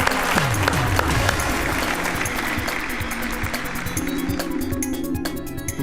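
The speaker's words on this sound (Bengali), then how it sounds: "জোরে হাততালি হোক" A studio audience on a Bengali quiz show bursts into loud, sustained clapping that stays dense and even for several seconds before thinning slightly near the end.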